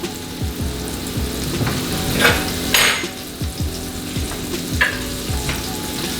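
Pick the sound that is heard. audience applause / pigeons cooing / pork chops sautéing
pork chops sautéing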